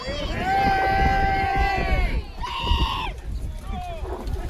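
Spectators at a re-enactment of the Battle of Shrewsbury shout and cheer in a sustained loud swell, then a second burst follows, with horses and crowd noise around them outdoors.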